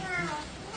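A cat meows close by in a short burst, with voices talking over and around the cry.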